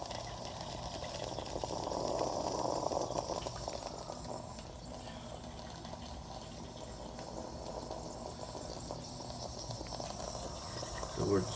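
An AICOOK espresso maker gurgles and hisses as it brews, a steady bubbling and dripping of water that carries on continuously, fairly close.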